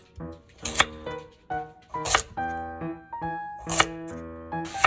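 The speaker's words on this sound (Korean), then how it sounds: "당근 3분의 1개 준비하셔서 먹기 좋게 썰어주세요" A knife chopping carrot on a board for Korean stir-fried squid, with sharp repeated cuts in bursts of a few strokes, close and fairly loud, alone without talk.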